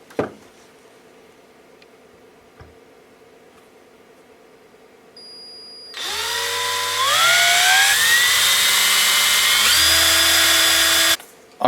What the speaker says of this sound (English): it's time to mark the valley that you want to drill your hole in the splines of that tube, and then simply drill and tap.